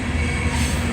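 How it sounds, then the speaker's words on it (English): A loaded CSX coal train rolls past on the rails in downtown McKeesport, a steady loud low rumble of wagons and wheels with no break, close by. "And I'm seeing coal trains every day loaded."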